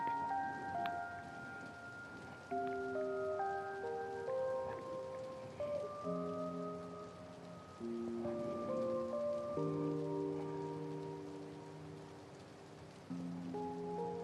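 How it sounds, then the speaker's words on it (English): Steady rain falls in the video game Trails Through Daybreak, a soft continuous hiss heard behind layered game music that plays throughout. "Oh no, it's raining."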